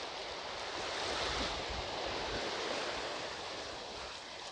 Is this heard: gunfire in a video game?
no